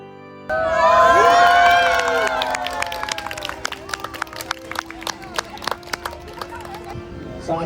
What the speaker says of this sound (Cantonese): 尖叫聲，歡呼聲！